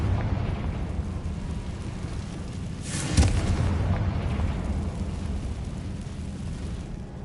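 A Confringo spell exploding in the Hogwarts wizard video game, a single burst that swells out of a constant low rumbling background partway through, with no voices.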